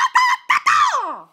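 A voice imitates a harsh bird squawk, giving two short honking bursts and then a longer drawn-out squawk that falls in pitch, loud and close with no other talk.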